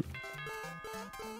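A bright two-note ding-dong chime from the video game Super Mario Maker 2, sounding several times in quick succession, clean and fairly soft.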